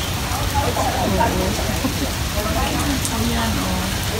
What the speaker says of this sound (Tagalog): Na-stuck dito sa ulan.